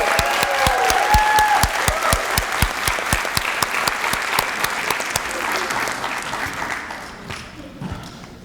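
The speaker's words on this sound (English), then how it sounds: "Let's give our scholars another round of applause." A school recognition ceremony crowd gives a steady round of applause for junior scholars, dense and fairly loud at first, then thinning and fading toward the end.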